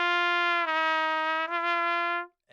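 A sustained horn note played with a shifted embouchure holds steadily with two small wavers in tone before cutting off cleanly, heard alone and fairly close.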